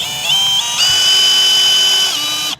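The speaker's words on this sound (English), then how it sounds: "I'm gonna grab a drill bit and I'm gonna drill a hole on the side of it" Power drill boring a hole into the side of a plastic third brake light housing on a Ford Excursion, a close, loud high-pitched whirring that steps up in speed once and runs steadily before stopping abruptly.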